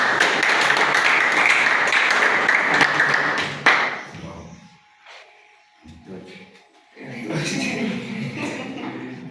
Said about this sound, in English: So much applause to guys.